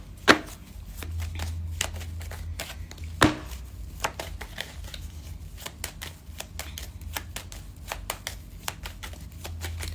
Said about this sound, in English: I'm just shuffling up my cards.